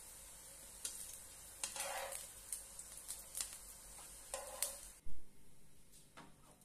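Eggplant pieces fry lightly in a pan for dahi tadka vange, with soft intermittent scraping strokes of stirring over a faint, steady sizzle.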